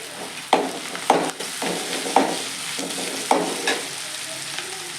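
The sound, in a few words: fennel powder frying and being stirred in a pan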